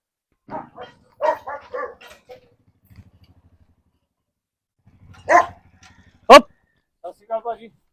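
A fierce dog barks in a few sharp bursts between stretches of talk, loud and close, with quieter pauses in between.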